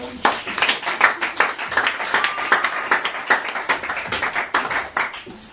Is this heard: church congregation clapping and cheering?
yes